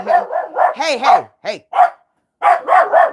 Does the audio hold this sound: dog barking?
yes